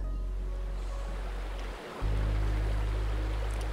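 Steady rushing water of the Jordan River, a continuous broadband flow with a low hum underneath that briefly dips and then returns louder, with no talking.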